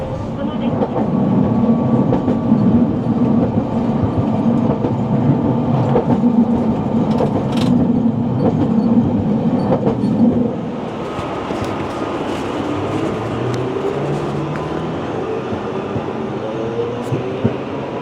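A Kumamoto city streetcar rumbles along rails set in cobblestones with a steady low drone and faint clicks, then the sound changes and softens as it moves on.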